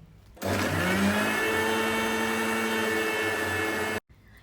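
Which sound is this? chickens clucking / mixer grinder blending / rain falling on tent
mixer grinder blending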